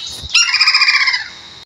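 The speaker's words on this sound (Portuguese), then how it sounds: "uma das espécies mais comuns do Brasil é o pica-pau de tupete vermelho" After a brief tap, a loud, close call of a red-crested woodpecker (pica-pau de tupete vermelho) rings out as a rapid, rattling series of harsh notes fading over about a second.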